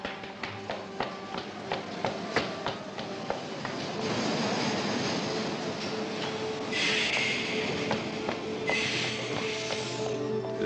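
Paris métro train in motion with rhythmic clicking and clattering of wheels over rail joints, then a rising steady rush and hiss, heard close from inside the carriage without talk.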